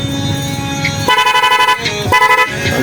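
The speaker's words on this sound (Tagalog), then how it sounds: "Ang lakas ng busina, no?" A loud motorcycle horn honks twice in short, close blasts in a motor parts shop, with brief pauses between them and no talking.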